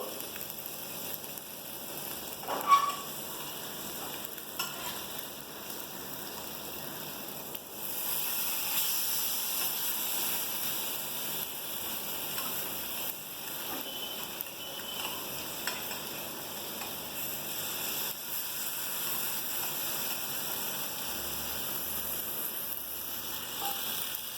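Pomfret fish shallow-frying in a pan with a crisp masala coating, giving a steady, close sizzle and hiss throughout with a faint click early on and no talk.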